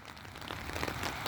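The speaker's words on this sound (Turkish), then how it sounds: "Göz gözü görmüyor yağmur." Rain falls in a foggy village, a soft continuous patter of drops on surfaces with a few slightly louder splashes near the end.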